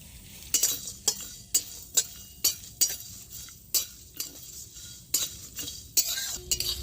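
Whole spices, including cloves and cinnamon, being dry-fried on very low heat, with a spatula scraping and clinking against the pan in a steady rhythm of about a dozen strokes over a faint hiss.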